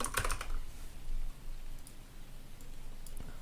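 Fingers tap on a computer keyboard in a quick cluster of clicks, then sparse, light keystrokes follow against a quiet, faint background.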